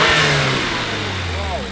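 A BMW N20 engine in an F30 328i revs, its pitch sweeping up and falling back beneath a continuous rumble, close and fairly loud, with voices talking over it.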